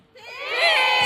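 A crowd at a live music show cheers and shouts, swelling quickly from quiet into a loud, sustained roar of voices.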